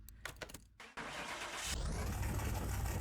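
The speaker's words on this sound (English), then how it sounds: "Let's get this one started up and see what she sounds like." A Chevrolet El Camino Hot Wheels custom with an SS engine cranks briefly in a racing-sim garage, cuts out, then catches and settles into a loud, steady rumbling idle that fills the rest of the moment.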